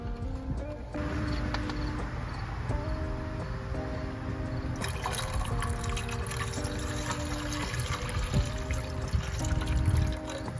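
Distilled water pours into the coolant system of a BMW N54 engine, a steady trickling and gurgling with some clinking and handling noise up close, getting busier partway through.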